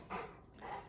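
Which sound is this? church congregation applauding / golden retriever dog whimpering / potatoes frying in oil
golden retriever dog whimpering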